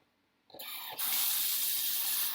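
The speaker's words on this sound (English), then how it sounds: "And then what we're going to do is turn the water back on." A tap turned on for rinsing soap off during handwashing, with a brief click and a short splash followed by a steady, close rush of running water into a sink.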